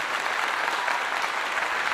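A dense burst of applause, steady and close, rolling evenly for a couple of seconds with no voices over it.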